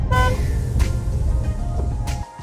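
A short MG Comet EV electric car horn toot rings out over a steady low rumble of a vehicle, with a second brief honk near the end.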